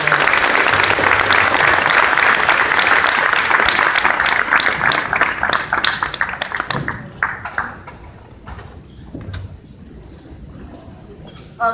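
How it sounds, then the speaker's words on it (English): An audience at a community autism awareness event applauds loudly and steadily, the clapping thinning out and fading over the last several seconds. "Let's give her a big round of applause and welcome her up to the stage."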